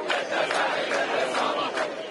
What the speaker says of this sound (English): They sing and chant to keep spirits high.